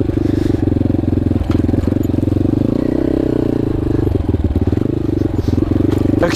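A Yamaha XT250 enduro motorcycle rides off-road in Moab, Utah, its single-cylinder engine droning steadily and loud throughout, with rattles and clatter from the rough terrain and faint wind noise.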